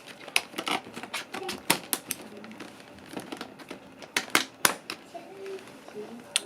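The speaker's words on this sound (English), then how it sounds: "I'm going to cut across the top here." Cardboard of a large Monster High doll box is cut open across the top, producing irregular close scraping, crinkling and snapping bursts of varying loudness, with brief pauses between them.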